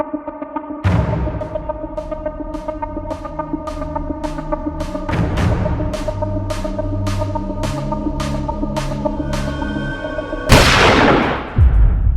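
Rapid bursts of gunfire ring out over a steady, dramatic music score, with a heavy blast near the end.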